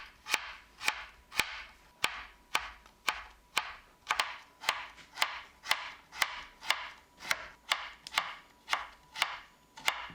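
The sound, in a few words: chopping food for cooking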